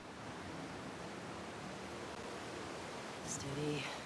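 River flowing in The Last of Us Part II game, a steady broadband rush of water throughout, fairly faint, with a few brief tonal sounds near the end.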